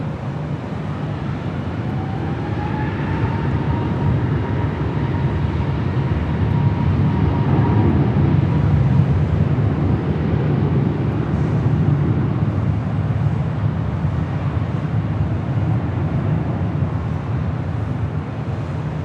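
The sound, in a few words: Delta airliner taking off from LAX runway 24 left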